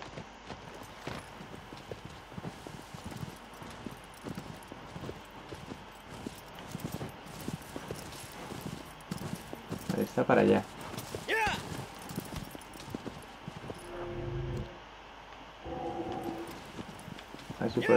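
A horse's hooves clop at a steady walking-to-trotting rhythm across the ground in Shadow of the Colossus Remake on PS4 Pro, continuous through the stretch while someone talks over them.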